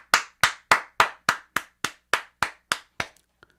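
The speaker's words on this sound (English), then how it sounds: "A round of applause to Brighton, man." Eleven sharp hand claps at a steady, slightly slowing pace, loud and close, each with a crisp attack and short decay, ending in silence.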